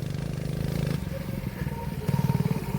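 A CRZ Racer 100cc go-kart engine revs and pulls away, a pulsing mid-distance buzz that dips briefly and then returns in a louder, rougher burst near the end.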